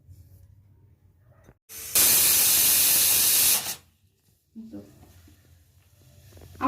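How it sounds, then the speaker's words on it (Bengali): A pressure cooker on the stove, cooking large potato pieces for aloo dum, lets out a loud steady hissing whistle lasting about two seconds, with quiet kitchen background before and after. "বসিয়ে দিলাম, এটা সিটি পড়ুক"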